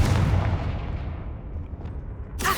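A Confringo explosive spell goes off in a Harry Potter video game: a deep booming blast that rumbles and fades over about two seconds, followed by a sharp new crack at the end.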